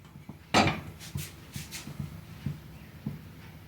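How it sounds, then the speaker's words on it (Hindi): Sabudana (sago) mixture is stirred in a pan over a medium flame, giving soft repeated scraping and tapping strokes at an even rhythm, close and fairly quiet, with one louder knock near the start. "तो लगातार इसे इस तरीके से मिक्स करते हुए पका लीजिए"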